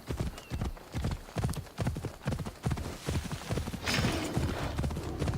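Hooves of a galloping horse in Assassin's Creed Odyssey beat in a quick, even clip-clop rhythm, loud and close, with a whinny-like rise of noise near the end.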